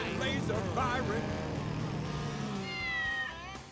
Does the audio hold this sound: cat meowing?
yes